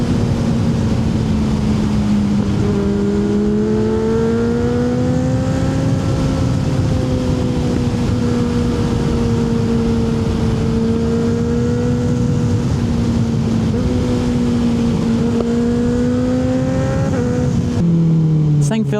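Two Kawasaki Ninja 636 motorcycles with quick shifters ride at speed, a loud, steady engine drone rising and dropping in pitch through repeated revs and gear shifts, with wind buffeting throughout and a sharp change near the end.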